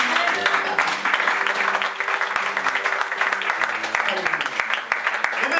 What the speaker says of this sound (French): Est-ce qu'on peut donner des acclamations pour ce Jésus?